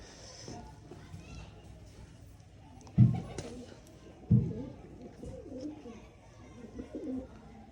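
Pigeons coo softly in low, rounded bursts amid faint background chatter, with a couple of louder thumps standing out.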